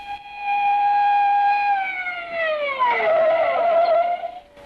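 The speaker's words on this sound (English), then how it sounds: "We arrived at the Marlin Club with the police siren wide open" A loud police siren wails steadily, then its pitch sweeps downward and shifts into a changing wail, close and alone with no talking.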